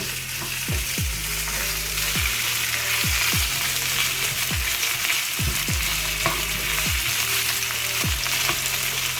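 Onion with ginger garlic paste frying in a pan for brinjal curry, a loud continuous sizzle with regular low knocks of a spoon stirring against the pan, no voices.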